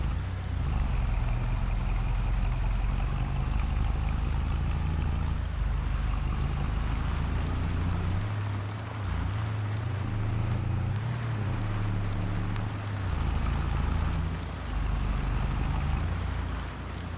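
A harvester in Farming Simulator 22 drives along with a continuous deep engine drone and rumble, steady and loud for the whole stretch, with slight shifts in pitch as it moves and no talking.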